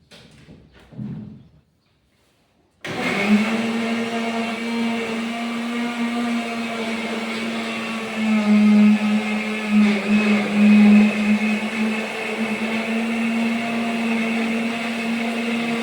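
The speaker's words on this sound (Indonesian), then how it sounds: "Next, start the blender by pressing the spread button." An electric blender motor runs steadily after a short quiet start, a loud continuous whir with a slight surge partway through, no talking over it.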